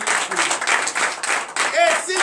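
Church congregation during a French-language Sunday service clapping and cheering in rapid rhythmic bursts, loud and close, with voices shouting over the claps.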